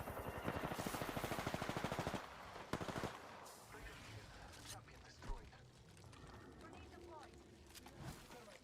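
Fast automatic R-301 rifle bursts in Apex Legends, a loud close-range stream of shots for about two seconds, then a few isolated shots and scattered game noise, with people talking.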